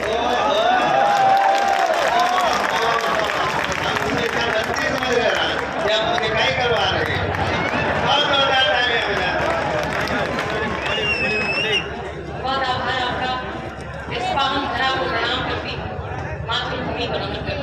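Applause rolls through the audience at a Hindi kavi sammelan poetry gathering in Lakhimpur Kheri, a dense clapping wash mixed with a voice speaking over it, ending in choppier bursts near the close.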